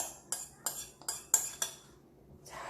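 Potato cream soup goes back into a pot with about six quick, clear metallic scrapes and taps of a utensil against the pot, close and regular, followed by a brief pause and a softer scrape.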